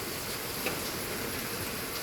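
Heavy rain pours steadily outdoors in San Mateo, California, a dense, even hiss that stays constant throughout with no voices.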